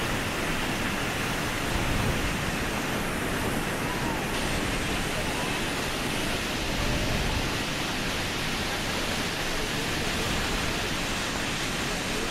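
The American Falls at Niagara, heavy water thundering down, give an unbroken broadband roar, loud and constant from start to finish.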